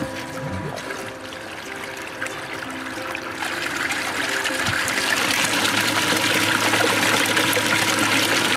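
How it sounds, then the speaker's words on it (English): Water runs at full force through a gold sluice set at about a 7 to 8 degree angle and fed by a recirculating tub system. It is a steady, continuous rushing flow that grows somewhat louder after the first few seconds, with no talk. "I have the full force of water going, about a 7 to 8 degree angle."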